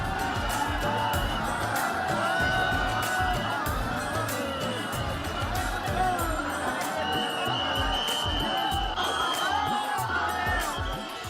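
A dense crowd of pilgrims at the Mahakumbh in Prayagraj, a continuous loud hubbub of many voices with shouts and cheers, steady throughout.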